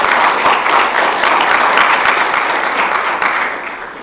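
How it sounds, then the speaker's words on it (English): A roomful of people at a university sustainability festival gives loud, close applause for the sponsors, with dense, even clapping that fades gradually toward the end with no voices over it. "could you just join me in giving them a round of applause for their support?"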